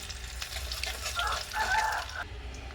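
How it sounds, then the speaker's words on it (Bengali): Onion sizzling in a pan of hot oil, a soft, continuous crackle and hiss with faint bubbling, moderately close and fairly quiet, then cutting out near the end. "পেঁয়াজটা ভাজা ভাজা হয়ে গেছে"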